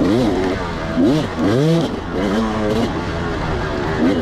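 A 2004 Kawasaki KX250 two-stroke dirt bike revs up and down while riding a dry dirt track, its engine pitch rising and falling repeatedly in close, loud bursts.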